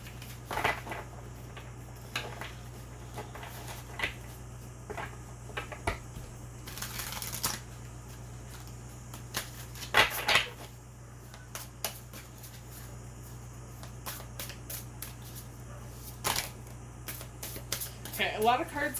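Tarot cards being shuffled by hand: soft riffling bursts and papery flicks come in scattered clusters, heaviest near the end, over a steady low hum.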